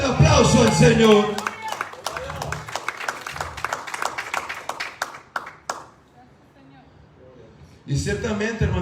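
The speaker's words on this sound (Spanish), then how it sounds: "aplauso al Señor." A church congregation at a Pentecostal service bursts into loud, dense applause, the clapping thinning into scattered claps before a brief pause and a fresh burst at the end.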